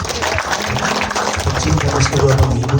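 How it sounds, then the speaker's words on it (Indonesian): Church congregation applauding during an Ascension Day service, a sustained patter of many hands clapping, with someone speaking over it and music or voices rising in the second half. "tepuk tangan dulu saudara."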